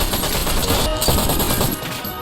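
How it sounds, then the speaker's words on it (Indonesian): Rapid gunfire during a shootout in a film, a dense loud burst of shots filling most of the clip before easing slightly near the end. "Sanchez pun terlibat baku tembak dengan Luke"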